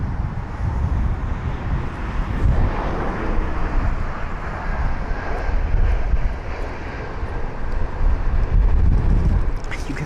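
An Airbus A320neo jet lands on runway 27 right at London Heathrow, a loud sustained engine roar with rumbling wind buffeting the microphone, close and continuous throughout.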